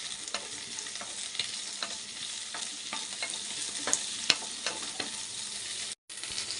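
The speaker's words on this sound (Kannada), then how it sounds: "ಈಗ ಫಸ್ಟು ನಾವು ಇದನ್ನು ಸ್ವಲ್ಪ ಎಣ್ಣೆಲಿ ಫ್ರೈ ಮಾಡ್ಕೋಬೇಕು. ಇದನ್ನು ನೋಡಿ, ಫ್ರೈ ಮಾಡ್ಕೋತಾ ಇದ್ದೀನಿ." Capsicum sizzles and fries in hot oil for a capsicum dal sambar, with steady crackling and repeated scraping stirs of a spoon in the pan, close and continuous, briefly cutting out near the end.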